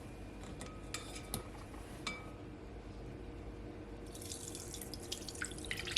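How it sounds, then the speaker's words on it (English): Ginger sorrel drink pours through a strainer into a bowl in a kitchen, a faint steady trickle and splash with scattered small drips and light clinks of metal, growing busier and brighter toward the end. "So now I'm gonna strain it"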